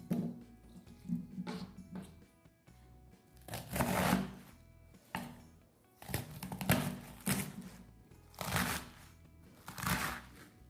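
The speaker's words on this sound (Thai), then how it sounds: "จะหั่นแบบไหนก็ได้แล้วแต่ชอบเลยนะคะ" A knife chops a halved Chinese cabbage into pieces for a home-style stir-fry with enoki mushrooms. Crisp, close cutting strokes land in irregular bursts with short pauses between them, and there is no talking.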